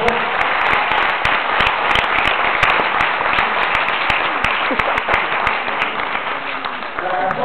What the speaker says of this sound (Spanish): vamos a aplaudir a los profesores